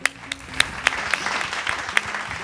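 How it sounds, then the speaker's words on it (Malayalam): Clapping from a studio audience following a Mappila song performance, a dense patter of applause punctuated by several crisp individual claps at moderate loudness, with no voices over it. "ഒരു കയ്യടിയും കൂടെ."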